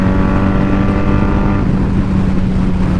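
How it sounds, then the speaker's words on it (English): A motorcycle accelerating hard and shifting up without the clutch: a loud, close, continuous engine roar whose pitch drops partway through at the shift, with no speech. "Roll off the throttle and just give it a shift."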